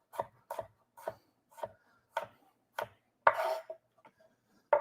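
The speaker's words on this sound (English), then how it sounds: "I'm rough chopping apples." Apples being rough chopped with a knife on a cutting board in a kitchen: a series of sharp, close knocks in an uneven rhythm, with one longer scraping stroke near the middle and no talking.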